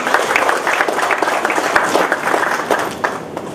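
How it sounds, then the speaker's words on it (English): An audience at a lecture on leadership claps in sustained, dense applause to welcome a speaker, steady and fairly close for a few seconds before tapering slightly. "Please give him a big round of applause and welcome our speaker."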